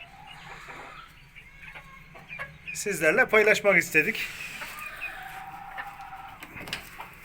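Sultan chickens kept as ornamental breeding stock cluck in a coop, with a loud burst of calls in the middle and someone speaking quietly before and after.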